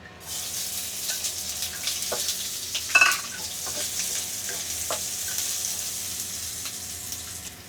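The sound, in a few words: garlic and onion sautéing for Thai chicken curry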